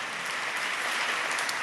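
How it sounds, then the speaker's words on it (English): Audience clapping at a Sunday church talk, a dense, steady wash of many hands applauding continuously, even in loudness and without voices. "So you can clap to that,"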